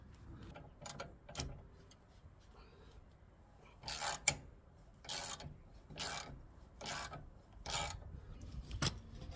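Hand tool work on a Honda Accord Type R during restoration, a series of sharp rasping clicks in short bursts, like a ratchet tightening a bolt, fairly close with quiet gaps between strokes.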